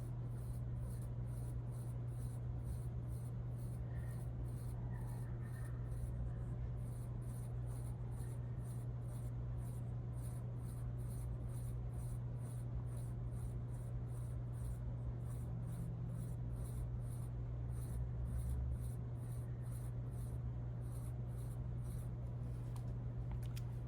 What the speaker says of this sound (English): To make all of the pomegranate seeds, I'm going to draw circles inside to fill in the space.